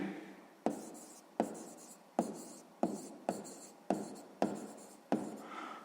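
Handwriting while solving a sixth-grade maths exercise on counting three-digit numbers: eight distinct scratchy pen strokes in a steady rhythm, close and fairly quiet, with no talking.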